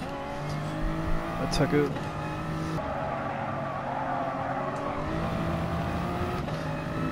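Toyota Supra Group 3 race car in Gran Turismo Sport at Kyoto, its engine droning steadily with a brief tire squeal, heard under a man's excited speech.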